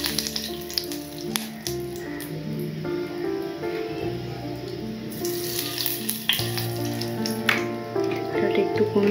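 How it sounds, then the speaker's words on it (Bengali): Magur catfish frying in hot oil in a pan, with a dense crackling sizzle that surges and softens, plus scattered sharp pops and clinks of a covering plate, close by and steady. "থালা চাপা দিয়ে খুব সাবধানে মাছ ভাজতে হবে"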